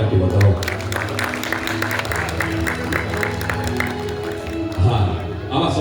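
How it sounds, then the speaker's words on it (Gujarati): An audience at a Vadtal Dham folk dayro in Australia gives the visiting saints sustained applause: dense clapping with some cheering under a voice and tonal music, swelling again near the end. "એટલે એમને થાક ન લાગે એના માટે પણ જોરદાર તાળીથી વધાવો"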